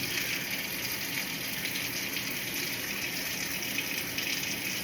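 Hot, clean water pouring steadily during a mock decontamination, a continuous broadband gush that holds even and fairly loud throughout with no breaks or voices.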